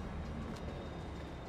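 A train passing in Farming Simulator 22 gives a faint, steady rolling rumble heard alone.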